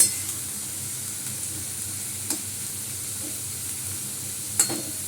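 Radish greens frying with garlic in a pan, an even soft sizzle throughout with two brief utensil taps, close and steady with no talking.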